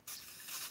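Lubricant sprayed onto an engine port during porting work makes a short, soft hissing spray that starts abruptly and holds for under a second, faint and alone.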